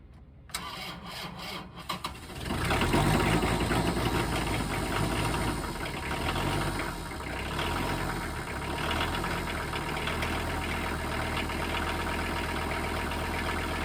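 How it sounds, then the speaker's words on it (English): A farm tractor engine cranks briefly, catches and settles into a steady, loud, close idle that runs without pause, with a slightly knocking diesel rumble. "I gotta get the tractor started and get it warming up"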